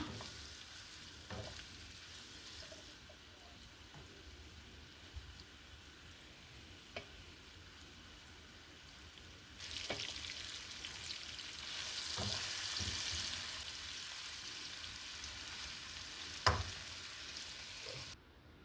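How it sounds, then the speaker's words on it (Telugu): Paneer pieces fry gently on a low flame with a soft, continuous sizzle that swells partway through, marked by occasional spatula clicks and stirring scrapes. "అందులో ఇప్పుడు మనం కలిపి పెట్టుకున్న పన్నీర్ ముక్కలను ఒక రెండు మూడు నిమిషాలు వేయించుకోవాలండి చిన్న ఫ్లేమ్ మీద"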